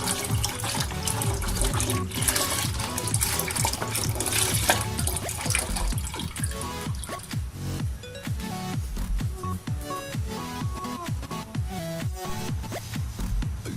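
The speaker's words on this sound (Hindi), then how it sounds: "तो ये 4 लीटर दूध मैंने पतीले के अंदर डाल दिया है।" Four litres of milk pour steadily into a cooking pot, a loud continuous splashing and gurgling liquid flow with no talk over it.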